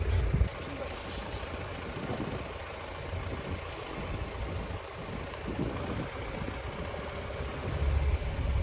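A safari vehicle inside Bandipur forest in the rain rolls forward right past a nearby elephant, its engine a low, steady rumble throughout, with people talking over it.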